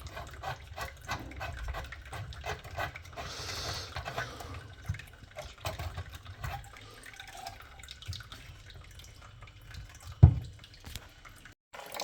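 Water drains from a Vaillant boiler system during a gas valve replacement, a steady low rushing and trickling that runs continuously with scattered drips and small knocks, then a sharp clunk near the end before it cuts off.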